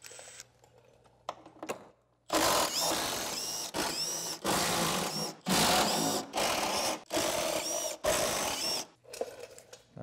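A power driver spins out Torx 30 bolts from a chain case cover, whirring in about seven close, loud bursts separated by short pauses, with quieter handling noise at the start and end.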